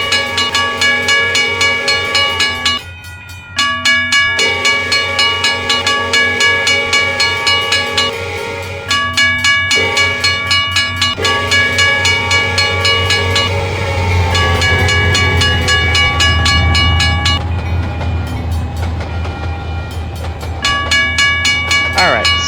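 A train in the Trainz game rolls through a level crossing, with steady rhythmic crossing bells ringing loudly throughout, a short dropout early on, and the train's rumble building underneath.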